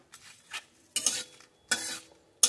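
Whole cardamom and cumin seeds dry-roast in a pan, heard as a few short scraping stirs and rattles spaced across a quiet background, each burst brief and close.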